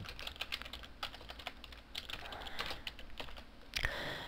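Steady typing on a computer keyboard close by: a quick, uneven patter of key presses continues for the whole stretch with no one speaking.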